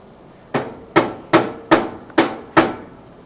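Six sharp metal hammer taps, evenly spaced about half a second apart, driving a drift into a drill press fixture, loud and close with nothing else heard.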